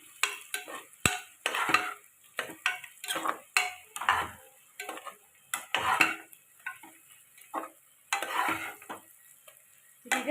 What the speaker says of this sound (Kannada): ಬೆಳ್ಳುಳ್ಳಿ ನಾವು ಇದನ್ನ ಚೆನ್ನಾಗಿ ತೊಳಸ್ಕೋಬೇಕು.